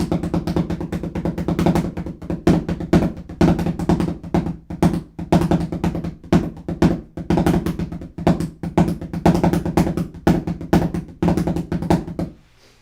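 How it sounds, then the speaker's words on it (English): Fast drum pattern led by a rapid hi-hat riff in triplets over sixteenth notes, dense and continuous with sharp accented hits throughout, played alone at a steady loud level. "he plays a hi-hat riff that is astonishing"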